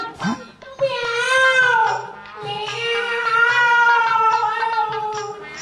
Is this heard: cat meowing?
yes